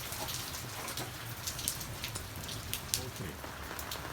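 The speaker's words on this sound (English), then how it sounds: "Cooking outside in the rain, we just need to manage it and enjoy every weather." Steady rain patters on surfaces outdoors where cooking is under way, a dense, even hiss of drops with occasional sharper splashes, heard alone and fairly close.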